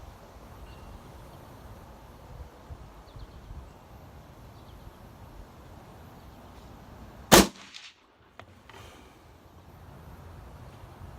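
A single sharp rifle gunshot cracks out loud and close over faint wind, firing Winchester Super X or Hornady Lever Revolution ammunition, followed by a brief quiet and a faint tail.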